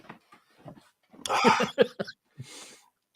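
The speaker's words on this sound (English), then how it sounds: "Well, I'm coughing this episode." A few harsh, raspy coughs close by, with quieter breathy sounds before and after.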